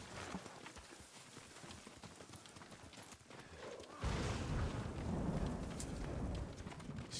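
Horse hooves clip-clop on the ground after the rider dismounts in the video game Ghost of Tsushima, a run of moderate footfalls followed by a louder rushing rumble in the last few seconds.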